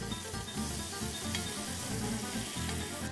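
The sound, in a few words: veal kidney searing in a pan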